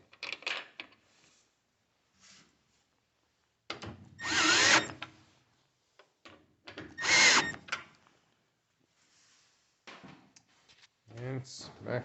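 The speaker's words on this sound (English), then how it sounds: "Put your remaining screws" Short bursts from a power driver drive screws as a top-loading GE Hotpoint washer's control panel is refitted. Three main bursts sit between clicks and handling noises, heard close.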